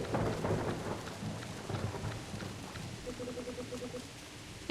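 Pouring rain drums steadily in the video game Elderfield while a deep roll of thunder rumbles loudly at the start and fades, followed by brief bell-like tones over the rain.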